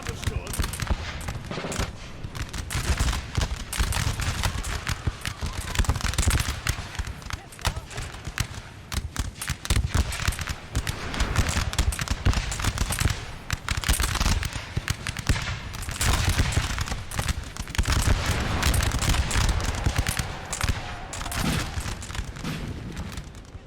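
Battlefield gunfire in a Napoleonic Total War 3 battle, dense crackling volleys and booming artillery rolling continuously, with someone talking throughout.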